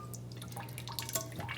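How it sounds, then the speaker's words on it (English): A leaking faucet drips water into a sink with a quick, irregular patter of small plinks. The drips are faint and close, over a low steady hum. "So you can see how it drips."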